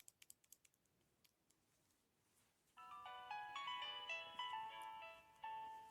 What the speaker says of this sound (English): Let's play a little Nokia tune